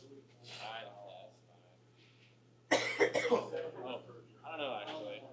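A man coughs sharply in a couple of quick bursts at an air hockey match, close and loud, amid nearby talking voices and a steady low hum.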